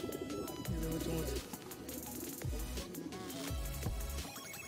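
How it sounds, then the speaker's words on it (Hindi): Madrasi pigeons coo in low, throaty rolling calls, repeated several times over a busy background of other birds. "ये मद्रासी कबूतर भाई, ये सारे मद्रासी, सारे मद्रासी कबूतर दिखा रहे हैं इस बारी"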